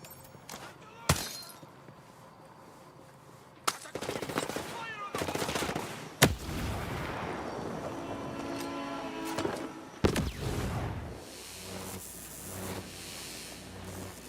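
Gunfire during base combat in Ghost Recon Breakpoint, scattered sharp shots and bursts of rapid fire over several seconds, some loud and close, others distant, with a voice talking in between.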